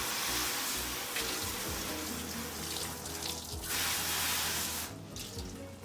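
Water from an outdoor spigot hoses down a table during plant watering, a loud continuous rushing splash close by with shifting intensity and a brief dip near the end.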